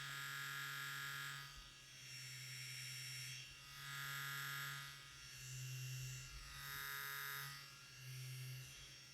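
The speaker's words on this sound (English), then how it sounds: "This is what the Torch sounds like. This is what the Titan sounds like." XNET Torch and Titan tattoo machines running, a steady electric buzz that swells and dips in level every second or two, with a high whine over a low hum and no talking.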